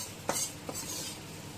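A spoon stirs slurry into boiling water in a home kitchen pot, with two quick scraping clinks over a soft steady bubbling hiss.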